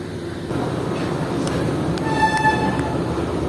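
Steady rumble of a train idling at a station in Colombo, Sri Lanka, with a few short high metallic tones and clanks over the continuous low hum.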